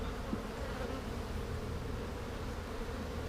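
Honeybees hum steadily at an open hive that had been short on bees, a dense, continuous low buzz close by with no voices.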